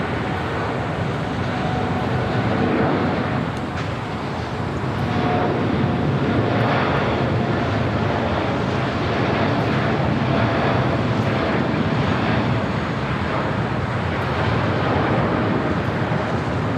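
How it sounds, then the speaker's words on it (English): An American Airlines Boeing 787 Dreamliner bound for Tokyo Haneda rolls down runway 25 right at LAX, its engines giving a loud, sustained roar that swells slightly midway and stays strong to the end, with no talking. "That American Dreamliner heading to Tokyo Haneda, now rolling down"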